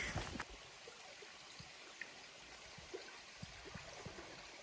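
Gulf Hagas Brook, a crystal-clear, ice-cold mountain stream, flows with a constant soft rush and faint gurgles and trickles, heard close and steady with no voices.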